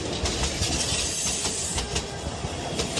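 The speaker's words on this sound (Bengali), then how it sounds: "ট্রেনটি আমাদের নামিয়ে দিয়ে আবার ঝিকঝিক শব্দ করে চলতে শুরু করলো" A cartoon train pulls away from a rural station with a rhythmic clattering chug and hiss, fairly loud and steady throughout, no voices.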